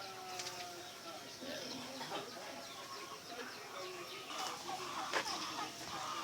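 Rhode Island chickens in a small backyard coop make scattered clucks and fowl calls throughout, with a few sharper squawks near the middle and end, all against steady outdoor background noise.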